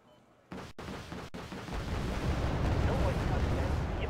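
Javelin missiles launching in the wargame Wargame: AirLand Battle: a sudden loud blast opens a continuous heavy roar of distant launches and explosions that builds and rumbles on without a break.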